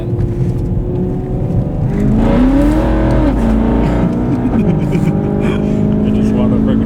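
A BMW E9X M3 cruises with a steady, low engine drone and gently shifting tones, fairly loud and close throughout, with faint voices mixed in.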